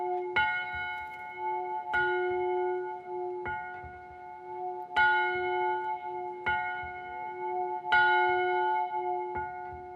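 A church bell rings outdoors with about seven clear, resonant strikes spaced roughly one and a half seconds apart, each leaving a long humming decay that overlaps the next.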